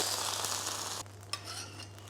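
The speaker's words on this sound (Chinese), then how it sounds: "把它平铺开，不动它，就这样让它煎就好了。" Oyster omelette spread flat and left to fry in a pan, a steady broadband sizzle that drops in level about halfway, with a brief utensil tap near the end and no talk.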